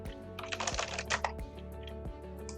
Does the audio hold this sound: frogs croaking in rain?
no